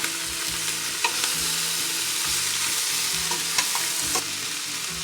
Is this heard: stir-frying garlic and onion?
yes